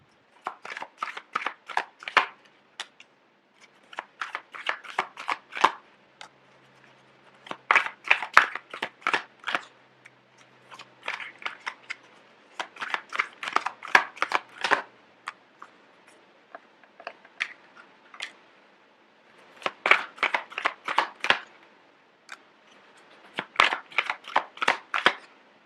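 Tarot cards are riffled and shuffled in repeated short bursts, each a rapid papery flutter up close, separated by pauses of a second or two across the whole stretch.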